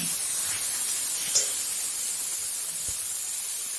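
Water poured into hot spice masala frying in oil for a Bengali koi fish curry gives a steady, close hiss of sizzling that runs the whole length with little change.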